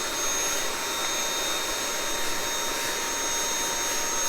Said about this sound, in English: now you could hold the vacuum at a different location and do this